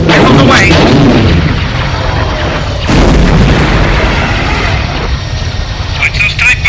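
Concussion missiles strike a Star Wars destroyer in a loud cinematic barrage, with heavy booming blasts and a rumbling roar, then a second sharp hit around the middle, all layered under a speaking voice.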